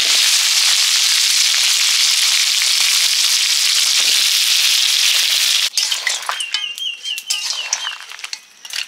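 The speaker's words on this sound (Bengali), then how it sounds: "এদিকে মাংসের আলুটা একটু হালকা ভেজে নিচ্ছি।" Potatoes for a chicken curry sizzle in hot oil in a pan, a loud, steady frying hiss that breaks into irregular crackles and pops toward the end.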